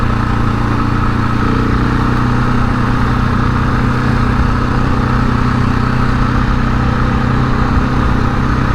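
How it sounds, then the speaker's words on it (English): A steady, droning small engine runs continuously at close range, a low mechanical rumble like a riding mower, with no voices. "Guy driving a lawnmower around right there."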